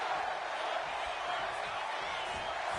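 In the WWE 2K26 wrestling video game, an arena crowd roars steadily behind CM Punk. The dense, continuous wash of cheering holds at a constant level throughout.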